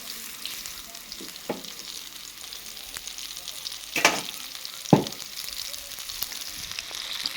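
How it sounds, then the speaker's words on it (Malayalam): Banana stem fries in hot oil, sending up a continuous soft sizzle up close, broken by a few sharper pops and spatters. "ആദ്യം ഒന്ന് വറുത്ത് കോരിയിട്ട്"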